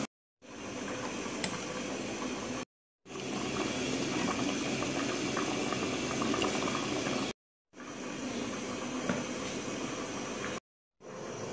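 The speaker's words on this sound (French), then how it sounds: "On va laisser mijoter la sauce." Aubergine sauce simmers in a pot, a soft, steady bubbling hiss in several continuous stretches separated by brief silent gaps, with no voices.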